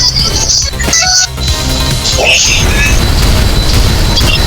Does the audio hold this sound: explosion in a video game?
yes